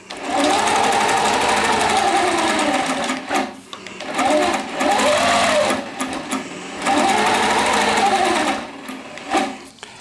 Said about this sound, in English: I'm going to just stitch this side so you can see really quick.